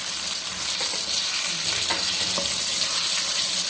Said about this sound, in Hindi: उसके बाद हमने इसकी दूसरी साइड जो है वो फ्राई करनी है।